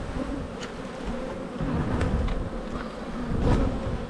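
Honey bees buzz thickly around an opened beehive during a hive check, a continuous close drone that swells and fades as insects pass near, with no talk.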